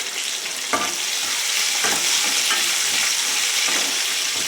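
Finely chopped green chilies sauté in hot oil with a continuous loud sizzle, broken by a few sharp stirring scrapes of a spatula in the pan, no speech.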